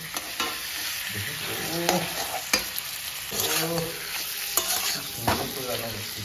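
Meat frying in a pan in a home kitchen, with steady sizzling and a few sharp clatters from stirring, close and moderately loud, no talking.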